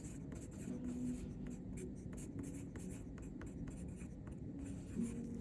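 Handwriting during a seventh-grade math percentage lesson, a steady run of soft scratching strokes close up, with faint low background hum and no talk.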